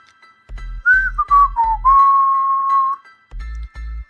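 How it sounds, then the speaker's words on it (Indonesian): Shrill, sliding whistles that rise and fall in pitch, broken by short low thumps, loud and close. "tiba-tiba terdengarlah suara siulan-siulan nyaring yang tak menentu"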